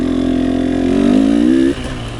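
A fuel-injected TBI motorcycle engine at a track practice session, a loud close steady drone that climbs in pitch as it accelerates, then drops off abruptly near the end.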